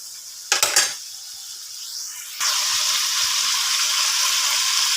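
Chicken sautéing in a pan for a chicken and cauliflower stir-fry, with a brief clatter of utensils before fish sauce goes in and the steady sizzle jumps louder and hisses on evenly, with no talking.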